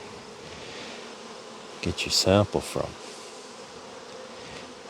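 Honeybees buzz around an open hive while a sample is shaken into a jar for a mite wash. A dense, steady hum runs throughout, with a short burst of nearby speech over it in the middle.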